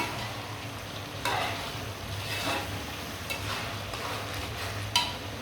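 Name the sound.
panch phoron spice mix added to a hot pan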